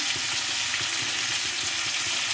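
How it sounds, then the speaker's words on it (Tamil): Raw plantain slices frying with chilli powder in a pan on a low flame, giving a steady, dense sizzle with faint scraping underneath, continuous and close, with no voices. "மிளகாத்தூள் போட்டு அப்படியே சிம்மலையை வச்சு நம்ம வேக விடணும் அப்போ தான் வாழைக்காய் நல்லா மொறு மொறுந்து வேகும்"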